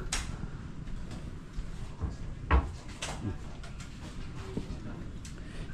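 A drawer running on hydraulic drawer guides in a modern nipa-hut style vacation house slides open and shut, giving soft muffled clicks and one sharper knock, with faint background voices.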